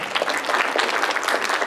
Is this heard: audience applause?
yes